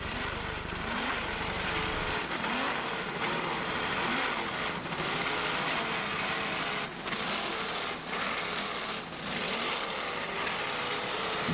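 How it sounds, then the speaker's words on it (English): An offshore racing powerboat engine roars steadily at the 1996 Key West offshore championship on bumpy water, loud and continuous, with brief dips in the roar as the throttle is worked. "Nice throttling there by Peter Meyer of Port Washington, New York."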